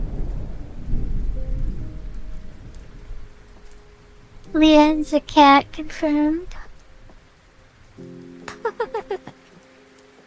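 Rain ambience with a low rumble fills the opening seconds, then fades to a soft background wash as a voice speaks and brief tonal sounds follow.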